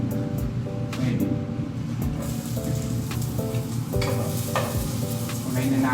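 Garlic fries in hot cooking oil with a constant bubbling sizzle, accompanied by faint clinks and stirring taps in the pan.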